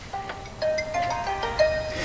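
A phone ringing indoors during a 2013 interview in Corinth, Mississippi, a repeating electronic tone pattern that carries on steadily at moderate volume with no talk over it.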